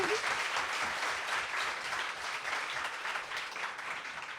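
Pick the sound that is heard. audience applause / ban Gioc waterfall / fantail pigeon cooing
audience applause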